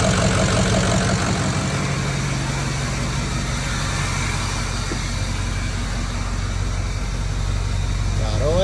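A Ford 6.0 Powerstroke diesel engine with its turbo runs at a steady idle, close and loud, a continuous rumble throughout.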